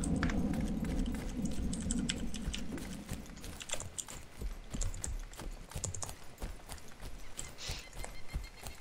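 Keys on a computer keyboard clatter in quick irregular bursts of close clicks, mixed with background game noise and no clear talk.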